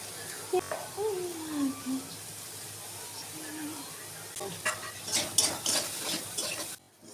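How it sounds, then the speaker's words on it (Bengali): Soybean chunks seasoned with salt, turmeric, cumin and dried chili powder fry in oil in a pan. A soft, steady sizzle runs under talk, and scraping stirring clatter comes near the end. "ভেজে নেওয়ার জন্য ঢেলে দিলাম।"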